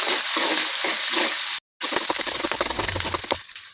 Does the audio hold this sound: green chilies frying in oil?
yes